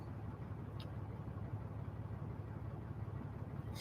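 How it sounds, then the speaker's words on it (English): A parked truck idles with a low, steady engine rumble that holds unchanged throughout, fairly quiet and without voices. "the truck's running"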